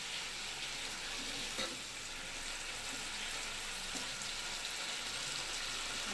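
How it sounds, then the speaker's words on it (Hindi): Chicken frying in a wok over high heat while making Chinese-style fried rice, a steady dense sizzle that holds evenly throughout, with faint stirring clinks and no talking. "इसे हम तेज़ आंच में 2 से 3 मिनट पका लेंगे।"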